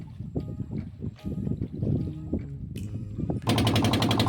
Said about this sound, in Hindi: हमार बोट स्टार्ट हो जाए